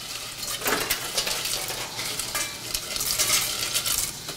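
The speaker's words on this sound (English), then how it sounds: "let's go ahead and drop some noodles, and these are just your egg noodles in some hot boiling water" Egg noodles drop into a pot of hot boiling water with soft splashes and bubbling. Stirring and light clinks follow, close and moderately loud.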